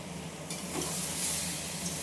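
Egg curry masala sizzling in oil while being stirred in a pan, a continuous close frying hiss that swells slightly partway through, with no talk.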